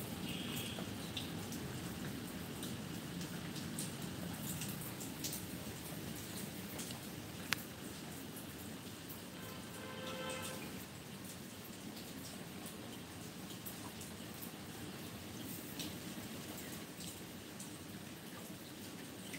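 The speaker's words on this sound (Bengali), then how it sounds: "কি বৃষ্টি ধরেছে এরকম টিপির টিপির করে" Light rain pattering softly and steadily on surfaces, faint and continuous with scattered drips and a single sharp tap partway through, no voices.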